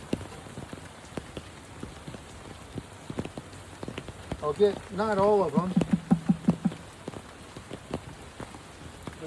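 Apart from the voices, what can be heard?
rain falling during beehive installation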